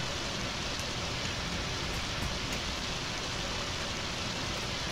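Rain in Undertale falls as a dense, constant hiss, steady and even throughout with no talking.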